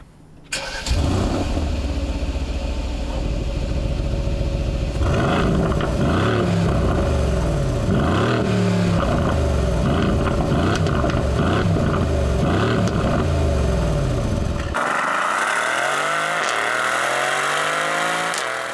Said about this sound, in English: I'll let you guys hear that bi-turbo V8 really quick.